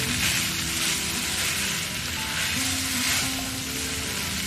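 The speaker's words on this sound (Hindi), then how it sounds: "नूडल्स को हम अच्छे से मिक्स करेंगे ताकि सारे जो हमारे सॉसेस हैं वो अंदर अच्छे से मिक्स हो जाए" Chicken chow mein noodles stir-fried with soy sauce in a hot pan, a steady close sizzle with soft stirring swells rising and falling, no talking.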